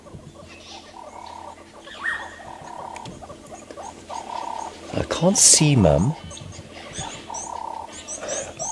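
Birds call busily in the African bush at sunrise, a mix of chirps and whistles heard from a safari drive vehicle. A short, louder squawking burst comes midway. A person speaks briefly over the calls.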